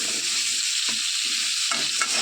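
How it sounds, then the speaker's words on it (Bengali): Small diced potato pieces frying in hot oil while being stirred, giving a loud, continuous close sizzle with a couple of brief scraping stirs, no talk. "আর আলুগুলো ভাজছি, ভালো করে লাল লাল করে ভেজে নিতে হবে।"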